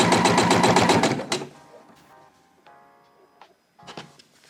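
A sewing machine runs fast and steady while stitching a seam close to the edge of an upcycled shirt, a loud rhythmic whirr for over a second, followed by quieter clicks and handling noises and a brief final burst.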